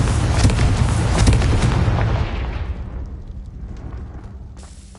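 A Confringo fire spell explodes in Hogwarts Legacy with a loud, dense burst of crackling blast that lingers, then fades into a rumbling decay.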